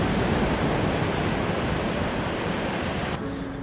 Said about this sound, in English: enjoying the sounds of the waves crashing on the beach